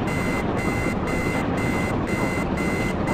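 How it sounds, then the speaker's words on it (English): Alarm sounding in the video game Arma 3, a steady loud tone pulsing in regular beeps about twice per second, continuous with no talk over it. "Is there a shortcut key to shut that alarm off?"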